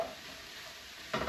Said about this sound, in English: we're going to keep stirring our peppers and onions for just a few minutes